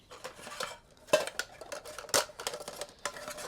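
Small stainless steel camping pots, lids and cups are handled and set down, a run of close, irregular metallic clinks and clatters at moderate volume with no talk.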